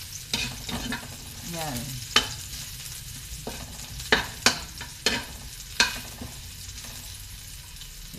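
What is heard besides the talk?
chicken liver frying in a pan for adobo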